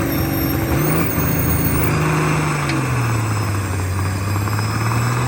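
A 10,000-pound John Deere pulling tractor at a sled pull roars loudly and continuously, its low drone shifting pitch slightly as it strains, with a high whine above it.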